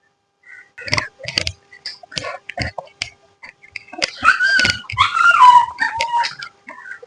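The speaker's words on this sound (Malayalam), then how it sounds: "അമ്മ അറിയിക്കാൻ വേണ്ടിട്ട് പട്ടി വിളിക്കണ കണ്ടാ" A dog yelps and whines in short bursts, then lets out a longer howling whimper, fairly close, with a few sharp knocks between the cries.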